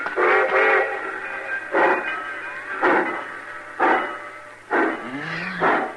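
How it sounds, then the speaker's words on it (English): A departing train's whistle sounds in a series of short bursts at regular intervals, with the low rumble of rail movement underneath, fairly close. "Cussing train pulling out right on time for once."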